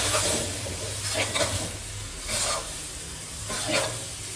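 Eggplant and basil leaves are tossed in a hot Thai stir-fry pan. Repeated scraping stirs come in rhythmic bursts over a soft sizzle, close and fairly quiet, with no talking.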